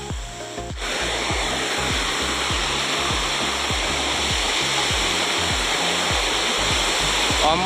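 Tunki waterfall in Mayurbhanj roars in a dense, continuous rush of falling water, loud and close, with a brief quieter moment at the start before the full torrent.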